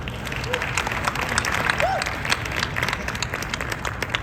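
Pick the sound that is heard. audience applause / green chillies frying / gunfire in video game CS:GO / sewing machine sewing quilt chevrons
audience applause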